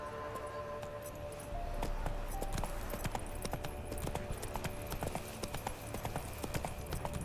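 Roach, the horse from The Witcher video game, gallops with a steady rhythmic clip-clop of hooves, joined by faint jangling tack, heard close and continuous without talk.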